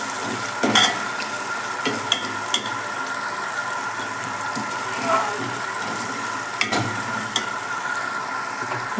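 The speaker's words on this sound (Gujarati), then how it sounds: "હવે આ બધું આપણે મસાલા છે એમાં મિક્સ થઈ જાય ત્યાં સુધી થોડીક વાર આપણે સાંતળવા દઈશું." Onion and spice masala for a Bhangara fish dish is sautéed in a pan, with a continuous sizzle and frying crackle, and a spoon scraping and stirring through it in occasional louder strokes.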